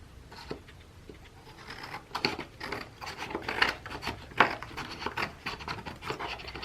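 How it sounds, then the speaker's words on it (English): Scissors make a series of soft, close snips and rustling cuts, quiet and irregular, growing slightly louder toward the middle. "yeah, let's just cut this out."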